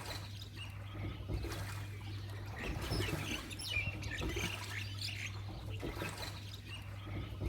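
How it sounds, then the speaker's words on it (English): Birds chirp and tweet at dawn over Dal Lake, scattered calls rising above a steady low hum, fairly close and moderately loud, with no talking. "You can hear every single bird chirping"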